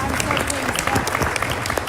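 An audience at a prison reform summit applauds steadily, with dense clapping filling the hall and a voice speaking faintly underneath.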